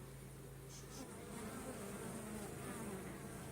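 Many honeybees buzz continuously at a hive entrance in winter, a dense, steady droning hum with individual insects swelling briefly as they pass.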